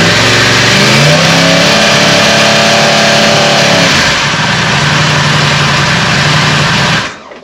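A 2020 Yamaha R1M motorcycle fitted with an Akrapovic end can and decat, revving loud and close, rising and falling through several throttle blips before settling near idle and cutting off abruptly.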